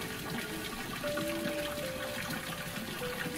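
Mountain mineral water pours steadily from a bamboo spout at Garden of Caves near Cherrapunji, Meghalaya, a continuous soft gushing splash with a few faint tonal whines over it.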